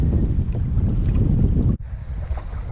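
Wind buffets a small fishing boat out at sea, a steady roaring gust across the microphone with water wash beneath, broken by one brief dropout.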